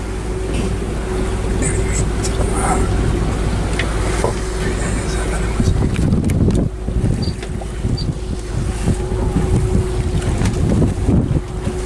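Steady engine drone of a boat moving across open water, with constant wind rumble buffeting the microphone and a heavier surge of splashing midway.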